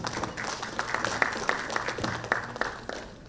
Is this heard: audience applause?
yes